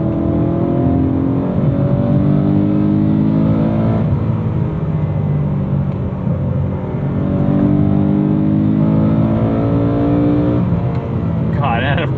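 A 2009 BMW E92 M3's naturally aspirated V8 pulls hard from inside the car, a loud harmonic engine note climbing and sustaining through long revving runs with brief dips between them.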